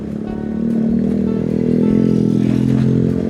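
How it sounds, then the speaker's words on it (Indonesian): Motorcycle engine droning steadily close by on a rough forest road, a low rumble that swells slightly and holds loud throughout. "Ada motor itu keluar dari mana dia?"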